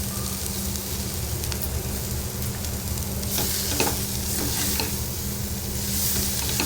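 Chopped capsicum and coriander are stirred in a hot pan, a dense continuous sizzle and crackle with scraping spoon strokes throughout, close and loud with no talking.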